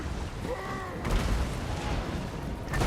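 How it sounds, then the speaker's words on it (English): Dwarven gyrocopters making a bombing pass in the video game Total War: Warhammer, a whistling descent followed by a rumbling burst of explosions that rolls on, with another blast near the end. "we're going to bring our gyrocopters over here on the side and do a bombing pass"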